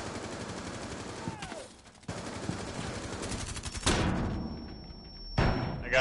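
Gunfire in the shooter Rainbow Six Siege, short bursts of rapid shots and sharp single cracks scattered across a few seconds of game noise, fairly close and punchy.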